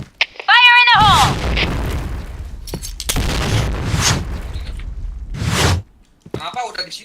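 A grenade blast in a first-person shooter lands as a heavy boom after a rising electronic whine, followed by gunfire bursts and further blasts, while players shout and chatter throughout.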